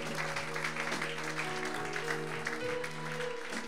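A congregation applauds steadily during a Sunday church service, a dense, continuous wash of clapping with a sustained musical tone held beneath it throughout.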